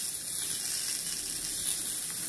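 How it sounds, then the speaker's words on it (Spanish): Chicken breasts on an electric grill plate give off a steady, close hiss of sizzling with no breaks, and no one speaks. "Y ahora tengo dos pechugas de pollo y las voy a poner a plancha para que veáis qué fácil."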